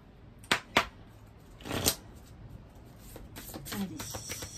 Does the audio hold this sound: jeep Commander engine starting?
no